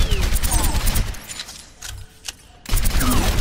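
Rapid weapon gunfire in the Overwatch tutorial, loud dense bursts of shots at start and end with a quieter gap in the middle holding a few isolated clicks and mechanical sounds.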